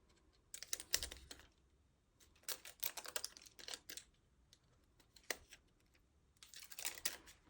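Die-cut paper flowers peeled out of a cutting die for turquoise card making, giving soft, close crinkly bursts of paper rustle in several separated clusters with quiet gaps between.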